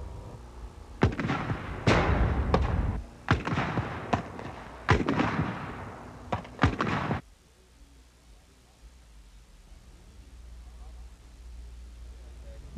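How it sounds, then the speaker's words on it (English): A string of five or six sharp, heavy blasts from a LAW rocket launcher firing practice rounds, spaced about a second apart and loud, followed by quieter ambient noise. "Firing the Law rocket is another thrill."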